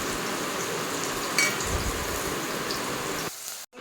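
Soybean chunks and vegetables frying in hot oil in a pan, a steady dense sizzle with a few clinks of a utensil, running throughout before cutting off near the end.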